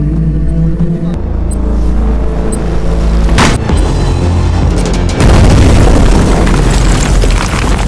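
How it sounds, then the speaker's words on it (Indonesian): A bomb blast in the Indian action film Mardaani 2: a sudden heavy boom bursts out partway through, then a loud, dense roar of debris and rumble follows, all over a bed of music. "Fanny dengan instingnya berhasil menyelamatkan cucu Pandit Ji dari ledakan bom."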